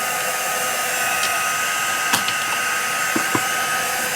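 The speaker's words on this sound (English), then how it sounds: "I'm definitely gonna dry this just a little bit more" Heat tool steadily blowing hot air to dry a junk journal page, a loud continuous whirring hiss that holds level throughout with a few faint clicks and taps near the end.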